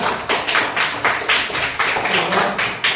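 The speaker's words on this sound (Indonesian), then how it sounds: "Beri tepuk tangan ya." Primary school children in a classroom clapping in a patterned rhythm, bursts of claps repeating roughly every half second, loud and close, with no talking over it.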